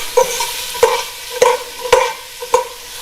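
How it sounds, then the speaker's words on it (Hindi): A spatula scrapes and clanks in a wok while chicken chow mein noodles are stir-fried, five sharp rhythmic strokes about half a second apart over a soft sizzle, close and clear with no voices. "इसको आपने 2 मिनट्स के लिए स्टिर फ्राई करना है।"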